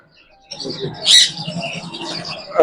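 Caged pet zebra finches at an aquarium and pet shop give a quick burst of high chirps with a sharper peak in the middle, set against busy background murmur and a low cooing that may come from nearby pigeons.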